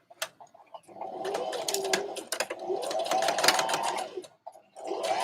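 A sewing machine stitching a half-inch dress seam runs in steady bursts of rapid needle clatter and motor whir, close up, with brief pauses between runs and faint pigeon-like cooing in the background.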